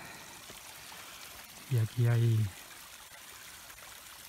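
A small piped stream trickles steadily along a mountain hiking trail in Spain's high Iberian valleys, a faint continuous wash of running water, with someone briefly speaking over it.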